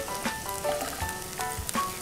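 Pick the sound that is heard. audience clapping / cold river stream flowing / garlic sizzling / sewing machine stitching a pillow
garlic sizzling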